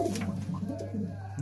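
Red Madrasi pigeons, a female and a male behind her, coo in soft repeated low pulses close by, over a steady low hum.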